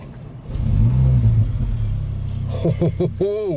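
A Mercedes-AMG car engine starts with a loud low rumble and settles into a steady idle, with a rev or two near the end as a voice talks over it.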